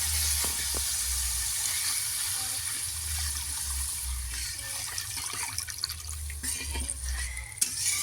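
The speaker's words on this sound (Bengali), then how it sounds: "এবারে এর মধ্যে আমি দিয়ে দিচ্ছি পরিমাণ মতো জল" Water pours into a pot of fish curry made with ginger paste, giving a continuous rushing, splashing stream that lasts throughout at fairly loud level, with a few faint clinks near the end.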